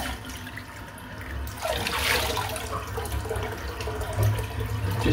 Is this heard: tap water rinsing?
yes